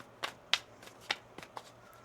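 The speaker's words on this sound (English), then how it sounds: "One more shuffle." A deck of tarot cards is shuffled by hand nearby, a few crisp riffling bursts spaced irregularly over a quiet background.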